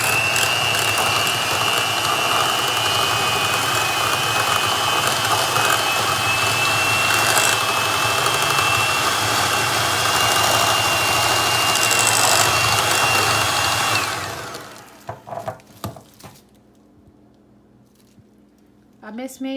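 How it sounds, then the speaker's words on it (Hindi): A kitchen blender whirs loudly and steadily as it blends cream cheese for a cheesecake, then cuts off near the end, followed by a few clatters and quiet. "इसको पहले मैं ब्लेंड करूँगी अच्छी तरह।"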